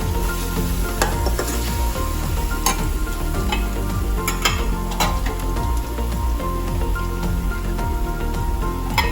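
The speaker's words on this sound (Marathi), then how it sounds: "तर आपल्याला सुक्याचा मसाला आणखीन थोडा भाजून घ्यायचा आहे" Dry masala paste for an egg masala curry roasting in a pan, a loud continuous sizzle with repeated scraping strokes of a spoon stirring it, close up and without talk.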